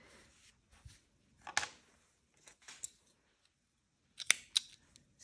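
Scissors snip yarn while finishing a no-sew crochet amigurumi, a few sharp metallic cuts separated by quiet pauses, close and alone with no talking.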